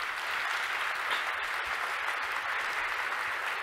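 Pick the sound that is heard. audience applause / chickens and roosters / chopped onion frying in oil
audience applause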